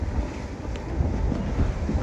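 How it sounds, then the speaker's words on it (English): Steady wind rushing over a sailing boat at sea in big swells off Fiji on a sunny day, a constant close roar buffeting the microphone with low rumbling gusts and no pauses. "wind's easing off a little bit actually"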